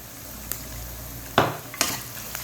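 Whole spices — Kashmiri chili, curry leaves, green and black cardamom — sizzle quietly in oil in a karahi while a utensil stirs and scrapes the pan in a few distinct strokes.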